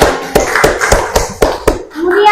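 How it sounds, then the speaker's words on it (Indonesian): A classroom audience claps hands in a few separate, sharp bursts rather than steady applause, close and fairly loud, with a voice and murmuring in between. "Berikan tepuk tangan untuk"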